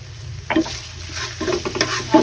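Fried rice with longganisa being stirred in a pan, a spatula scraping and tossing in short bursts over a steady close sizzle.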